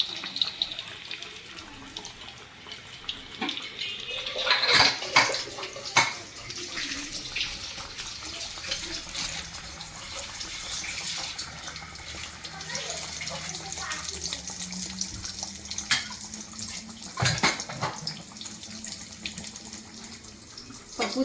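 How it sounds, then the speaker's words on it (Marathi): Bread pakoda frying in hot oil, a steady crackling sizzle that runs throughout with occasional louder bursts and clatter, while someone talks intermittently. "हा गेला ब्रेड पकोडा तेलात।"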